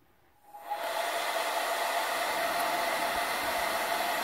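A small USB-charged handheld vacuum switches on and holds a steady, airy whine, close up and fairly quiet, with no voices.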